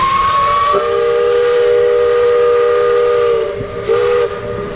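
Steam train on Big Thunder Mountain Railroad at Magic Kingdom, Walt Disney World, blowing a long, loud whistle over steady chugging hiss, with a second short whistle blast near the end.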